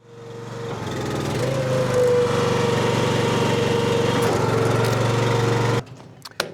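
The small engine of a log splitter runs at a steady, loud pitch for several seconds, then cuts off abruptly, leaving a few faint clanks.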